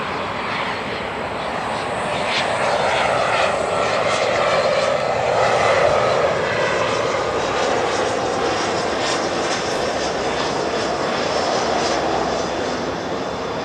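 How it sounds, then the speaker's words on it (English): A small executive jet comes in to land at LAX, its engine roar broad and steady, swelling slightly toward the middle and holding loud throughout with no talk over it. "we got a little exec jet coming in"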